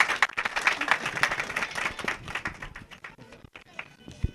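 Clapping from an audience at an integration evening for new baccalaureate graduates, honoring the association president, an irregular run of claps that thins out, with talk mixed in.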